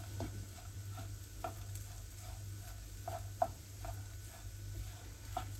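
Bulgur with garlic is stirred in a pan, producing soft, quiet, regular scraping taps about twice a second over a low hum and a faint sizzle.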